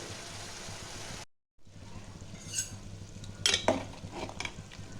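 Spice paste sautéed in a pan with a splash of water while cooking khichuri, a low sizzle with a brief cut, then scraping stirring strokes and utensil clinks against the pan.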